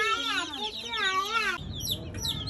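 Little chicks in a new cage chirp rapidly in high, sweeping peeps, close and clear, with a chick's louder rising calls before the chirps thin out into softer cage rustling.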